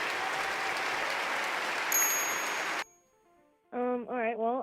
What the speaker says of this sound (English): I'm going to play the little applause sound effect for you.